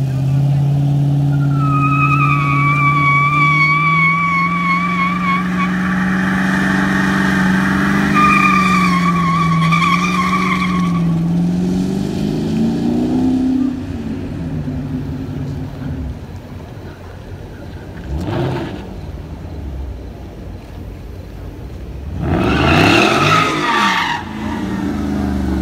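A Mopar car doing a burnout at a 2020 Indianapolis event: rising engine revs give way to long, loud skidding and tire squeal, with a final rev surge near the end and people talking nearby.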